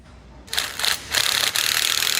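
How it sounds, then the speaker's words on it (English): A screw is driven into the tube of a drawer slide handle in three grinding, ratcheting bursts, the second and third longer and louder than the first, close up and without talk. "Drive the screw in, making sure that it is running concentric to the tube"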